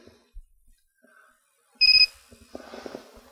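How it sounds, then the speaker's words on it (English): A short, clear electronic beep tone sounds once from an MR4 LaserStim laser therapy device, with faint tapping and handling noises before and after it. "we'll hear an audible tone"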